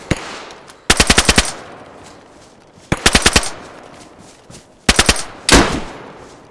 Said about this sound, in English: I'm getting shot up.